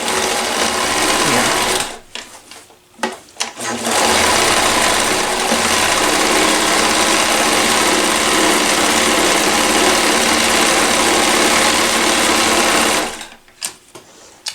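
Koyo sewing machine stitching a straight seam, a steady fast mechanical whir that runs almost continuously, with brief pauses early on and stopping near the end.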